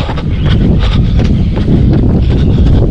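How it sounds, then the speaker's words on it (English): Headwind buffeting a microphone on a cyclist's holiday run near the village of Barmby Moor, a loud, constant low roar and rumble with no pause. "Wind against you."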